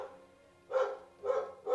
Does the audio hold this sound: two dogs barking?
yes